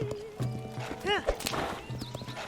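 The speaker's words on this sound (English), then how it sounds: "And then we'll get on the horse and ride along." Horse hooves clip-clop at a gallop in The Legend of Zelda: Tears of the Kingdom, with a whinny partway through, game music and effects layered over the steady hoofbeats.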